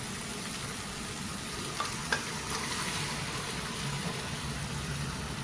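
Cooked mutton frying in masala for a Pandharpuri-style curry, a steady broadband sizzle filling the clip with a few soft stirring knocks, close and continuous with no talking.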